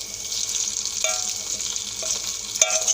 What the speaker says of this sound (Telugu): ఇలాగా ఈ పొంగల్లో తాలింపు అనేది కలుపుకోవాలి